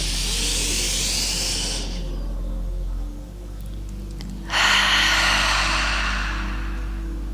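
Slow, loud breathing during somatic exercises: a long, airy breath, a quiet pause, then another long, hissing breath, close and alone.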